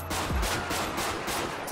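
Rapid gunfire in GTA 5, a close burst of repeated shots blending into a dense rattling crackle across the short moment, loud and steady without talk.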